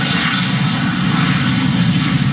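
A steady, loud airplane engine roar plays as a departure sound effect, a continuous broadband drone with a deep rumble that holds unchanged throughout, with no talk over it.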